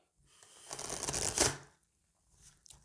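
Tarot cards riffle in a quick shuffle lasting about a second, close and crisp, then silence with a faint tap afterward.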